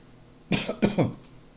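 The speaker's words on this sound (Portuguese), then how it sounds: "desculpe pela tosse" A person coughs three times in quick succession, close by and fairly loud, with quiet silence before and after.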